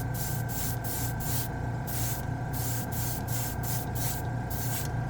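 An airbrush hisses continuously as it sprays acrylic paint, with a steady air-driven spray pulsing slightly in rhythm, close and unbroken with no voices.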